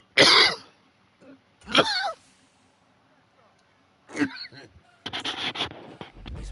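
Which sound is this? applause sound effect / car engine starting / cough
cough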